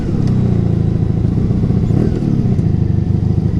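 A 1987 Honda Super Magna motorcycle rumbles loudly and steadily while being ridden, with a constant low engine drone and no talk.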